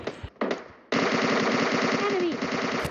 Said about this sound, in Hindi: तो इनका टीममेट हमें लेफ्ट साइड से फायरिंग दे रहा होता है